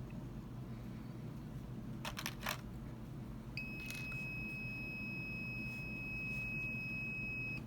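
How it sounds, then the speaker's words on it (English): Fujikura 41S fusion splicer heater signalling it has finished: a steady electronic tone sets in partway through and holds to the end over a low background hum, after a few brief clicks. "That beep informs me that it's done melting."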